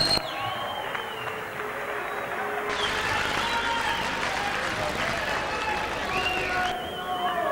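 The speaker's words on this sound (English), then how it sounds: "Give him a round of applause" A boxing-match crowd applauds the winner in an indoor arena: a dense, steady wash of clapping and cheering that swells partway through, heard at a moderate distance.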